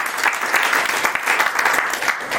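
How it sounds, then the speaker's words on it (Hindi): Loud, dense audience applause at a motivational talk on networking, steady sustained clapping filling the whole moment with no voices over it. "एक बार जोरदार ताली इनके लिए।"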